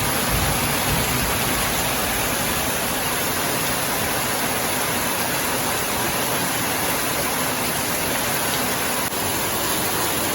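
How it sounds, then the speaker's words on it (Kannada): Heavy monsoon rain during flooding in Udupi, Tulunadu, hammers down in a loud, constant roar of drops on surfaces, close and unbroken throughout. "ನೀರ್ದ ನೆಟ್ಟೆ ನಿಕ್ಲೆ ಗೊತ್ತಾವು ಎಷ್ಟು ಜೋರು ಬರ್ಸ ಉಂಡು ಪಂದು"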